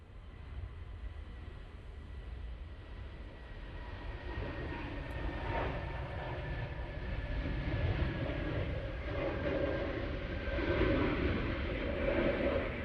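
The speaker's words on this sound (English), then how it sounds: "Next departure is on the runway, and it's a Lufthansa City going off to Munich." A Lufthansa CityLine plane departs down the runway at Manchester Airport, heard as a steady, distant jet roar that swells slightly over the clip, with no talking.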